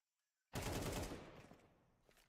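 Automatic gunfire from a video game during a live esports tournament match: after near silence, a sudden loud burst of rapid shots runs together into a dense roar that slowly fades, with no voices over it.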